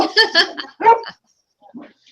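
Dogs bark indoors in several loud, close barks in quick succession, followed by silence and then a fainter, short yip or whimper.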